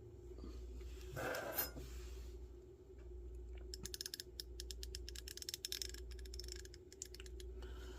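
A new Varma 1/4 inch ratchet with a socket fitted, turned to test back drag: a fast run of fine, crisp pawl clicks at close range, quiet, after a short creak, with no voices.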